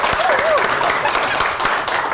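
Applause from a small podcast studio audience rustles steadily throughout, dense and fairly close, with a voice talking over it.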